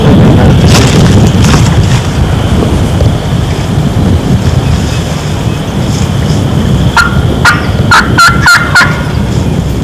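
A hunter sits in a field with turkey decoys and imitates hen turkey calls. After a stretch of wind noise, a quick run of sharp, loud yelps sounds close by near the end.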